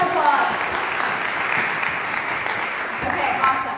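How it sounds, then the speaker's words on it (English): Audience applause at a TEDx talk as volunteers come up on stage, steady dense clapping throughout, fairly loud and close, with a murmur of voices mixed in. "Let's give a round of applause."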